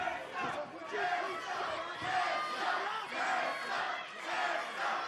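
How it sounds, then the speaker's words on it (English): A sold-out crowd at an Impact wrestling event chants for the world champion, a loud, steady roar that rises and falls in rhythmic waves through the arena. "This sold-out crowd is chanting for the world champion."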